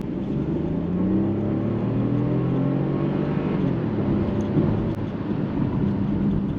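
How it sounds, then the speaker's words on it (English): A MINI Countryman plug-in hybrid's engine and exhaust roar steadily as it accelerates, a loud, continuous droning growl with rising harmonics and no talking. "I love the exhaust sound. It just sounds sporty."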